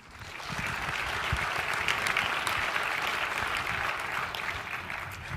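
A conference audience greets a keynote speaker at a lunch session with sustained, full applause that rises quickly and holds steady, heard from within the room.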